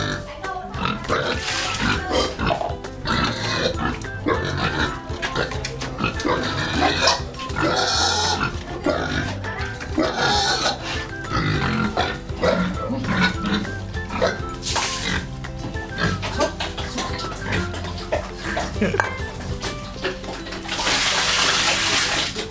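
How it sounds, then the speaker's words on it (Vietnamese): Farm pigs at a highland farm in Nghĩa Đàn, Nghệ An, grunt and squeal while being hosed down with running water before feeding, a dense, loud, continuous mix of animal noise and splashing. "Tiếng mấy con heo được tắm á."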